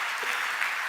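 Church congregation applauding, a brief burst of steady, even clapping that fills the room with no break.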